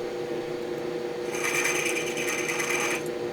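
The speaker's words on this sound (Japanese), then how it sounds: "外径 8mm になるまで削っていきますね" A lathe turns a part for a Honda Monkey four-cylinder engine build down to an 8 mm outer diameter. A steady machine hum runs throughout, joined midway by a brighter scraping cut that lasts a couple of seconds and then stops.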